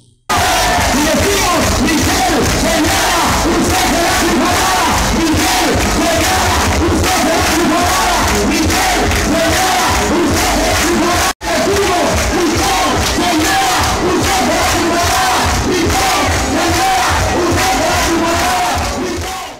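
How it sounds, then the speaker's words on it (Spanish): A large crowd at a political rally for a candidate for a Veracruz state congress district, inside the Agustín Cárdenas venue, cheers and chants loudly and steadily, with near and distant shouts blending into one dense, unbroken roar. "fue recibida entre porras y aplausos"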